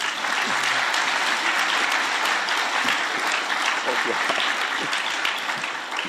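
A large audience applauds as economist François Lenglet steps into the light at a history festival talk, dense continuous clapping filling the hall, loud and steady from start to finish.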